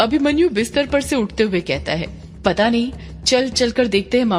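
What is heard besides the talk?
No distinct noise like a dog, phone or traffic.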